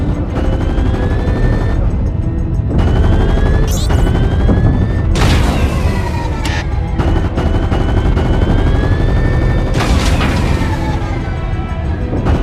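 Spaceship weapons blast at rocks in Fortnite, a loud dense barrage of booming shots and explosions layered over a continuous roaring rumble, with sweeping whines rising through the chaos.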